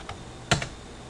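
A few keystrokes on a computer keyboard during CAD drafting, with a faint tap and then one sharp, close click followed by a softer one.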